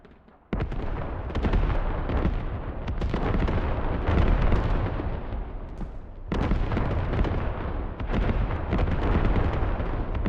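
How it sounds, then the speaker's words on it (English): Artillery barrage in the tactical shooter Squad, a dense stretch of heavy, booming impacts and crackling blasts rolling on almost without pause for about ten seconds after a quiet start, loud and close. "Artillery mopping up a Squad Allstars Germany squad that was flanking on the southwest side here."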